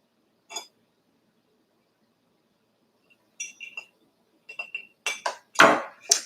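A kitchen knife slices through a freshly baked buttery shortcake biscuit, giving a few soft crumbly cuts and light clinks close by, ending in louder scraping knocks against a plate or board.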